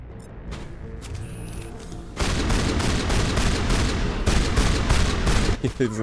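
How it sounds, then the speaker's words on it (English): Mass Effect video game combat with rapid volleys of gunfire, softer shots at first, then a loud dense stream of bursts and thuds, and speech faintly mixed in. "Everybody just shoot at this bozo."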